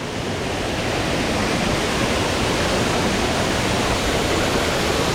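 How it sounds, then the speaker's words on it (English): A waterfall on the Grand Canyon track in the Blue Mountains roars as a steady, loud, unbroken wash of falling water close by, with no voices. "Our first waterfall of the day."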